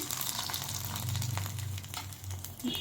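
Sago (saggubiyyam) vadiyalu frying in a small amount of oil in a pan, a steady continuous sizzle and crackle, close and fairly loud, with no talking over it.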